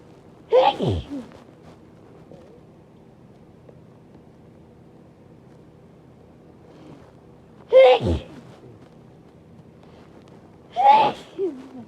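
Three big, loud, breathy human sneezes, each a sharp burst with a short gasp, spaced widely apart with quiet room tone between them.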